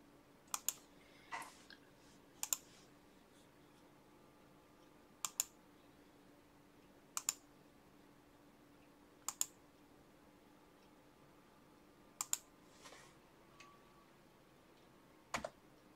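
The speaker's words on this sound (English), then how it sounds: "Wish I had a smarter way versus typing this out." Sparse, isolated key clicks from a computer keyboard, a few quick taps in small clusters every couple of seconds against a quiet room with faint hum; no talking.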